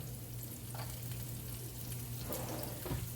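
Green onion frying gently in a pan over medium heat, a soft, low, steady sizzle with a faint background hum and occasional light stirring scrapes.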